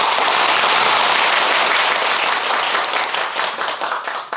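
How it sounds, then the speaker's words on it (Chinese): Classroom audience bursts into loud, dense applause to welcome a teacher, strong at first and then thinning into scattered claps toward the end. "掌声有请天文老师，掌声有请"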